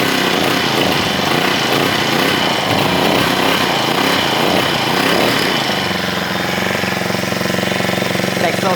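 A 35cc four-stroke brush cutter engine revs loudly and raggedly under throttle, then eases back to a steadier, lower running drone for the last few seconds.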